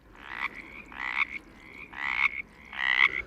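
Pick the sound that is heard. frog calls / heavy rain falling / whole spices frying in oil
frog calls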